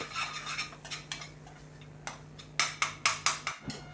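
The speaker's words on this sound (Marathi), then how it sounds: "आता ह्या स्टेजमध्ये आपण त्यामध्ये चवीनुसार मीठ घालणार आहोत आणि पुन्हा चमच्याने व्यवस्थित एकजीव करून घेणार आहोत" A metal spoon stirs salt into a spiced onion-tomato masala for a beans masala curry, giving a string of sharp, close clinks against the pan that grow louder and more regular toward the end, with no voices.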